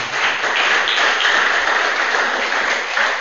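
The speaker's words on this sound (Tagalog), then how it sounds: "Palakpak muli sa ating Diyos na buhay." Worshippers at a Filipino church service give sustained, full applause, a thick, even wash of many hands clapping at once, close and fairly loud.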